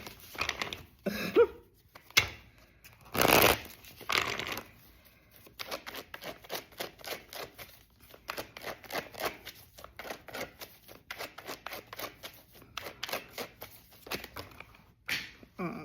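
Tarot cards are shuffled, riffled and handled at close range in bursts of dense papery flicking, with one loud sharp snap early on and steady rapid card slaps through the rest.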